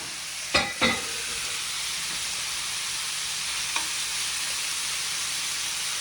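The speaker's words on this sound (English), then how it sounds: "So you get those mushrooms in there first." Mushrooms fry in a hot pan for a steak and mushroom stir fry, a steady bright sizzle with two sharp clattering hits near the start and a faint knock later.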